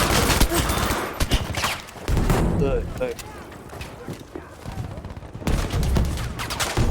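Battlefield 5 gunfire on the Al Marj map, including M1928A1 bursts: loud clustered volleys at the start, middle and end, separated by quieter stretches where players talk.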